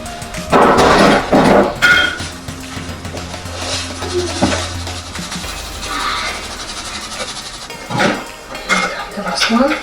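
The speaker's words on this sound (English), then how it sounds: "I'm going to mix 2 liquid ingredients together with mixing" Utensils clatter and scrape against a bowl while two liquid ingredients for a coconut oil brownie are stirred together, loud clinking bursts at the start easing into softer scraping, with a few more sharp knocks near the end.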